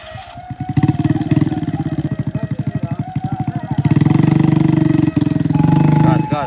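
A Kawasaki Ninja 250cc motorcycle climbing uphill, its engine loud and close with a rapid pulsing throb that rises as the throttle opens, then holds steady at high revs.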